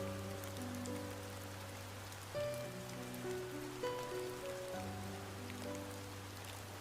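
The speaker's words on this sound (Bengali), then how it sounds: "আর হালকা বৃষ্টি হচ্ছিল" Soft, steady light rain patter beneath slow, sustained background music, with no voices, in a Bengali horror cartoon.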